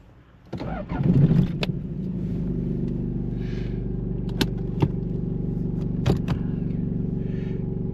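A 1997 third-generation Toyota Hilux Surf engine cranks briefly and catches, then settles into a steady, close idle with a low rumble, with faint clicks and keys jangling over it.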